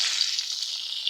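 Fish frying in hot oil gives a steady, close sizzle with a continuous crackling hiss and faint pops, no voices over it.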